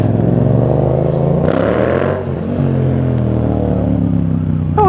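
A motorcycle pulls away in first gear, its engine note rising steadily and loud up close, with the pitch climbing through the rev and a brief dip partway before it builds again.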